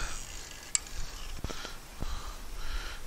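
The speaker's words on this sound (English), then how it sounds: "we're going to put caulking on the whole seam, all the way" A caulking gun runs caulk along a metal shed base seam, giving faint clicks of the trigger and ratchet and soft squeaky scrapes, close and sparse, with no talk.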